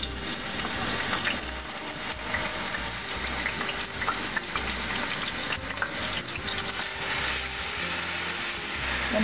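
Onions frying in a good amount of oil in a pan for a lasagna meat filling, giving a soft, steady sizzle and hiss that runs throughout without speech.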